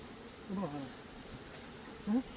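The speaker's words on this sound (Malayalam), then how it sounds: "കൂടുതലായിട്ട് ആക്രമിക്കുകയാണെങ്കിൽ നമുക്ക് ഇങ്ങനെ സ്മോക്ക് ചെയ്താൽ മതി ഈച്ച പിന്നെ ഒന്നും ചെയ്യില്ല" Honeybees buzz around a kept beehive during honey harvesting, a faint low drone with two brief louder passes as single bees fly close, no talking.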